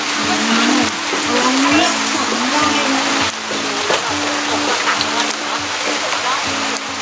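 Rain pouring down at an outdoor plant market, a constant hiss of drops splashing on surfaces, with a person talking and moving nearby under the downpour.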